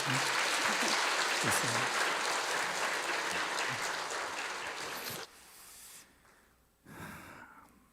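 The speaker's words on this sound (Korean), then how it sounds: "박수." A congregation at a Sunday church service claps steadily for about five seconds, then the applause cuts off, leaving a quiet room with a brief faint burst afterward.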